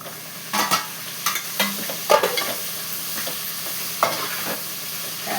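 Tomatoes sizzle in a curry pan while a spoon stirs them with scattered clanks against the metal, a steady close frying hiss underneath.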